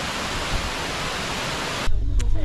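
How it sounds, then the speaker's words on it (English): Horsetail Falls, a waterfall beside the road in Valdez, Alaska, roars as a steady broadband rush for about two seconds, then cuts to a quieter scene with low rumble and a brief faint tone. "And now we have Horsetail Falls."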